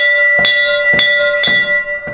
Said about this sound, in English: So whenever dinner's ready, it's 3 bells.